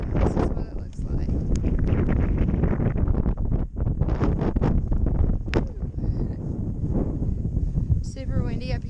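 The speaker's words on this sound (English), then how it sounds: "Super windy up here." Strong gusting wind buffets the microphone on the summit of Camel's Hump mountain on a cold day, a loud continuous roar with brief dips, and a voice briefly heard near the end.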